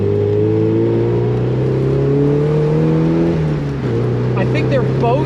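Two Porsches driven hard on the Tail of the Dragon mountain road, one on air suspension and one on coilovers: a loud, steady engine drone holds under the cabin with a brief pitch dip near the end, while people talk over it.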